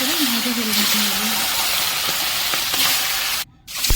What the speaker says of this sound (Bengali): এবার মাছটাও দিয়ে দিয়েছি। মাছটাকে এবার লাল লাল করে ভাজা করে নিতে হবে